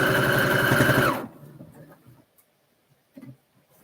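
A sewing machine stitches in a loud, rapid whirring burst for about a second, then stops, leaving near silence with a few faint handling taps.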